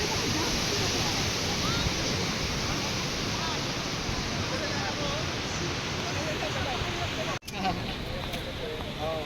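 Sea waves washing against the shore, a continuous broadband wash of surf close by, with a brief sharp knock near the end.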